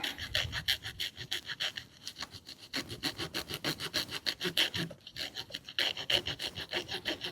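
Wood tinder being flaked with a Beaver Bushcraft tinder tool, a small tool with a saw edge and a scraper, outdoors. Close, steady rasping strokes repeat in quick rhythm for several seconds, with a short break midway and no talking.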